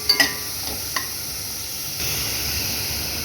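Onions fry in a pan for semiya upma, giving a soft steady sizzle with a few sharp clicks and scrapes of stirring early on, heard alone without speech.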